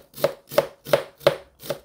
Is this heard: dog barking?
no